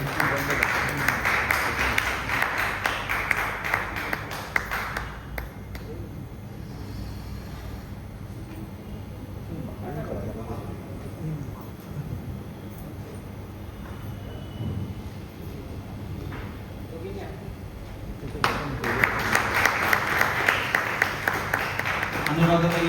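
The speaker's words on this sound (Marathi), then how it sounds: "जोरदार टाळ्या होऊन द्या यांच्यासाठी" Audience applause at a community school-reunion gathering, dense clapping at the start and again near the end, with a quieter stretch of murmuring and speech between.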